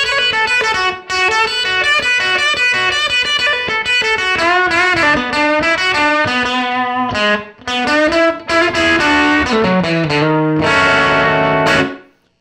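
Electric guitar on the bridge pickup through a tube amp, no pedals or reverb, riffs with a crunchy, overdriven tone, a continuous busy blues phrase of chords and single notes that cuts off at the end.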